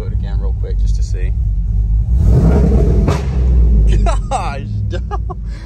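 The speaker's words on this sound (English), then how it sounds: "I hit the two-step in between the buildings, and it popped so freaking loud" Car engine revving hard with two-step launch control, giving a loud, rumbling, throbbing exhaust with a sharp pop partway through, echoing between buildings under a voice.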